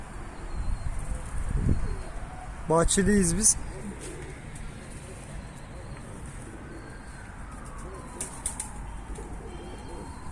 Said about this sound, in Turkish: Güvercinlerde durum mu? Birazdan uçuracağız.